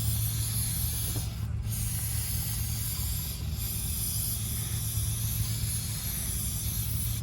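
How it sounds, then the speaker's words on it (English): Continuous close hiss of brake cleaner sprayed from an aerosol can, steady for several seconds with brief dips, over a low background hum. "I spray this down good with brake clean."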